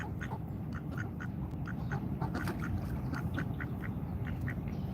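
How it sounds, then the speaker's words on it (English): Ducks quack steadily in a rapid, repeated series, close and fairly loud over constant outdoor background noise, at a duck gathering near a Washington DC protest. "Oh, we got some more land ducks here."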